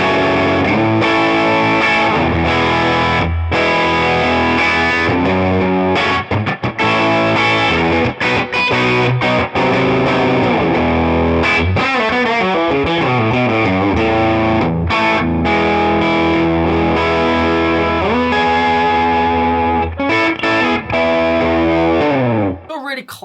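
Heavily distorted electric guitar, a PRS Private Stock through an amplifier's lead gain channel, plays continuously with high-gain crunch, chugging riffs and ringing chords at a loud, steady level, with no one talking.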